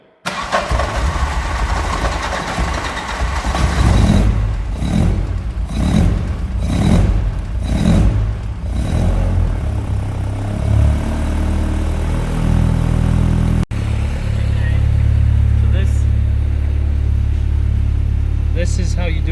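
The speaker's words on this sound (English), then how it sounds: "This is how you do a proper choke on a car." A Vauxhall Calibra engine cranks in several rhythmic pulses on a manual choke, catches, then runs with a loud, steady idle that rises and settles, heard up close.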